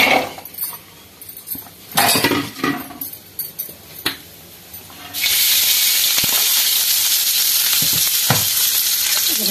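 Onions are sautéed in a pan for a country chicken soup. A few utensil clinks and stirring knocks come first, then a loud, continuous hissing sizzle takes over and holds steady to the end.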